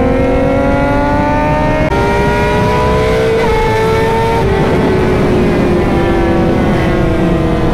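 A Suzuki Gixxer 600 sport motorcycle runs close and loud while riding, its engine droning steadily with pitch climbing through the revs and dropping at a couple of gear changes, with wind rush and no talking.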